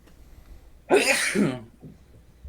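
A single sharp human sneeze bursts out close and loud, followed by a brief quiet breath and faint background noise.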